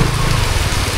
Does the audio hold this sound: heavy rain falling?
yes